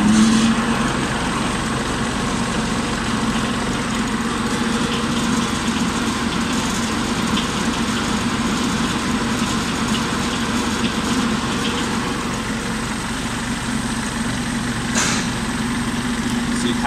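A Kubota tractor with a rear finishing mower runs steadily as the mower winds up after the clutch is released, a loud continuous engine drone with a constant whirring hum and no speech.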